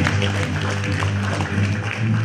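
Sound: applause for a panelist at a research symposium

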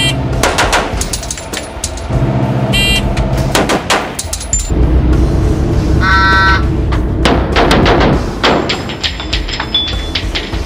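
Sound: close-range rifle shots from retention position into bullet trap

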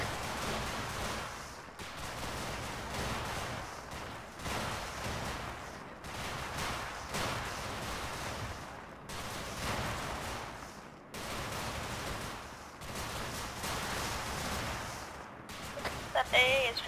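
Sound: gunfire in video game Arma 3

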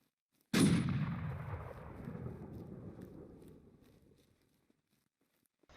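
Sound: gunfire in a shooting video game

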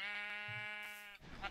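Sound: sheep bleating in the video game Minecraft

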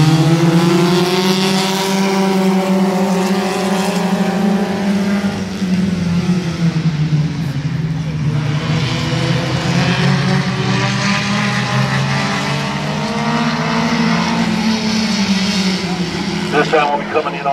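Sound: compact race cars racing laps at Midvale Speedway

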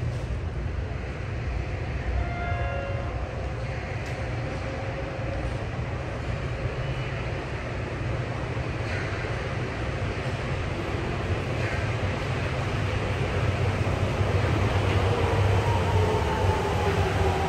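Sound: train bound for Makomanai arriving at platform 1, Asabu Station

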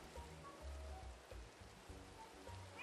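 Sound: rain in the video game Minecraft

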